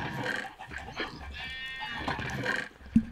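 Animal calls from cows in a survival video game set in a nuclear wasteland, a few drawn-out bleating moos close by over quiet background sound.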